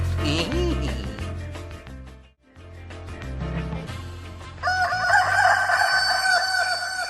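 A rooster crows loudly nearby, repeated calls with a short pause between them, while other birds chirp brightly in the background toward the end.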